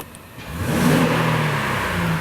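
A 2017-2018 Honda Ridgeline pickup with a VTEC engine revs up under acceleration, a steady, rising mid-pitched engine note that holds loud and close for the whole stretch, with no talking over it.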